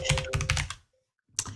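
A computer keyboard is typed on rapidly up close while entering text into embroidery software, a quick burst of clattering keystrokes, a brief pause, then a few more keys.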